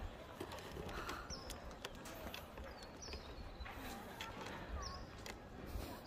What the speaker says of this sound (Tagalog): Ayun, narinig may mga ano na ibon.